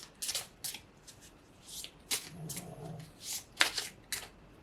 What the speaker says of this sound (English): I'm gonna go ahead and shuffle the cards